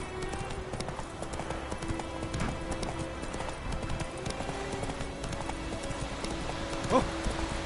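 Hooves of the horse Roach galloping in The Witcher 3 video game, a steady clip-clop under a dense game soundscape with a brief whinny-like accent near the end.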